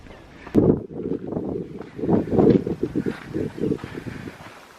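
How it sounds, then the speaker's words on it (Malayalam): Cold wind gusting through an old heritage village at Wadi Shees in Fujairah, a loud, steady rushing buffeting that rises and falls in strong surges, close to the microphone with no other clear sound. "നല്ല തണുത്ത കാറ്റ്"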